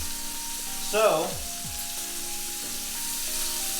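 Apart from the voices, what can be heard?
beef tenderloin steak searing and sizzling in a pan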